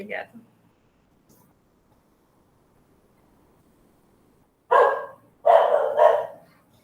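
A dog barks once near the start. After a quiet pause, a quick run of loud barks follows close by.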